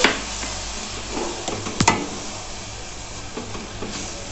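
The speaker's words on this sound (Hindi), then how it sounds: "अब हम इसके अंदर एक कप दूध डालेंगे।" Saffron milk is stirred into a coconut barfi mixture in a pan, giving a soft sizzle with scraping strokes and a couple of sharper clinks of the spoon against the pan.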